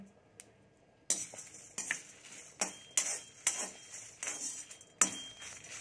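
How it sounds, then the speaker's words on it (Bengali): Whole coriander seeds with dried red chillies dry-roasting in a pan for a spice mix, a utensil scraping and clinking against the metal in a series of sharp, irregular strokes, close and fairly quiet. "এই ধনেটাও একটু নেড়ে নেব।"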